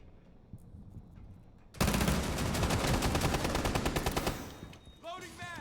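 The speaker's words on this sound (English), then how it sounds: "Ento throwing some shots through the wall" A rapid burst of gunshots fired through a wall in a Rainbow Six Siege finals match breaks out suddenly after a quiet stretch, rattling for about three seconds before fading into softer game sounds.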